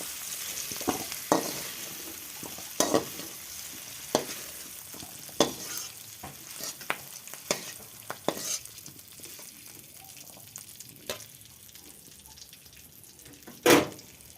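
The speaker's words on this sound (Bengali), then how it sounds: "তো বন্ধুরা, সবজিগুলো ভাজা হয়ে গেছে" Vegetables fry in oil in a pan while a spatula stirs them, producing a soft sizzle punctuated by repeated sharp scraping clacks at an uneven rhythm, close and fairly loud.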